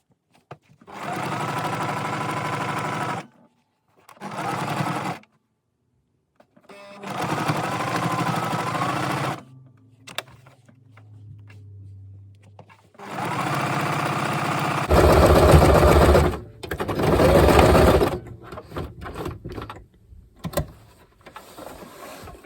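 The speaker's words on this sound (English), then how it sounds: "Going to go over the seam twice, forwards and backwards" A sewing machine stitches a seam on a drawstring rucksack forwards and backwards, running in several loud, steady mechanical bursts separated by short pauses and quieter handling noises.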